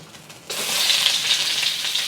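Onions hit hot oil in a stir-fry pan at medium heat, a loud steady sizzle bursting in after a quiet half second and holding close and bright to the end.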